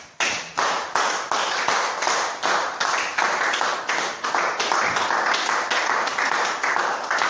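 Church congregation applauding for the Lord, a sustained run of strong, evenly paced rhythmic claps from many hands in unison, loud and close throughout.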